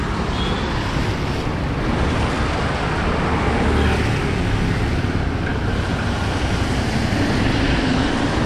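Continuous road traffic flows at an unsignalled junction in Kerala, India, a dense unbroken roar of engines and tyres close by with no pauses.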